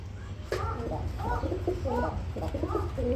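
Pigeons at a pigeon seller's loft coo close by in low, rolling phrases that repeat in quick succession over a steady background hum.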